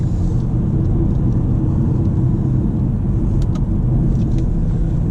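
A 2018 BMW 440i Gran Coupe accelerates hard: a steady, loud, low engine rumble with road noise from inside the cabin, holding an even level throughout.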